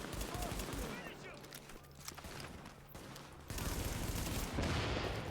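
Pistol fire from henchmen in The Division rings out in dense, rapid bursts within a busy game mix, the shooting growing louder and thicker toward the end, with no voices.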